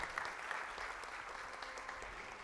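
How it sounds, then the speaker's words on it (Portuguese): A faint, distant round of applause for a Catholic singer at a formal anniversary session, with continuous dense clapping from the crowd. "Uma salva de palmas"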